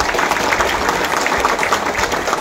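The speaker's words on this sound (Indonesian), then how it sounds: "Berikan tepuk tangan." An audience at a corporate anniversary event claps steadily, a dense continuous wash of applause throughout the short stretch.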